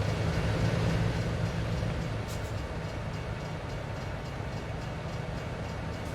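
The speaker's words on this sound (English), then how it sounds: "as we're waiting on the train to go by" A train in American Truck Simulator rumbles past steadily, a continuous low rolling roar with faint rattling, loud and close, no voices.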